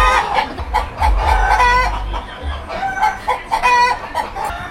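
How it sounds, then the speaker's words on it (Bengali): Chickens cluck and a rooster crows repeatedly at a roadside food shop selling country chicken near a beach, loud and close, with busy background bustle. "মুরগি ডেকেই যাচ্ছে"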